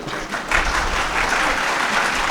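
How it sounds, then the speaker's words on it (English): Students at LGU university in Lahore clap together in a hall, producing a steady, fairly loud round of applause that swells slightly after a soft start and holds evenly. "So, all the students are clapping."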